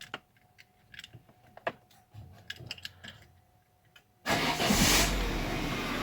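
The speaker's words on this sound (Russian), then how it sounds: "Теперь заводим автомобиль, запускаем точнее." A Peugeot 307 being started: after several seconds of quiet clicks and light handling noises, the engine suddenly catches and runs with a loud, steady roar.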